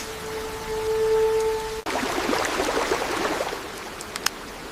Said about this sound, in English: That's a drain. Water goes there.